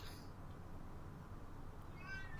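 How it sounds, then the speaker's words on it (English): A cat gives a faint, brief meow near the end, heard alone at very low volume against a quiet indoor background. "Go on, meow at me."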